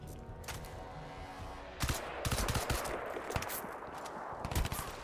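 Rapid gunfire in the PC shooter Crysis 2 Maximum Edition, bursts of sharp shots starting near two seconds and repeating irregularly, fairly close and loud over a steady game soundtrack, with no talk.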